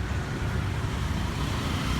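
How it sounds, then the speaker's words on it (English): Cars on a busy one-way street in Bangkok produce a steady roar of road traffic with a low engine rumble, close and continuous throughout. "This is a busier soi, you can see. Cars,"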